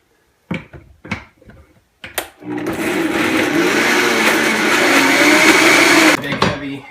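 A food processor blending curry ingredients with curry powder: a few knocks of handling, then one loud sustained motor whir lasting about four seconds that stops abruptly, followed by more light clatter.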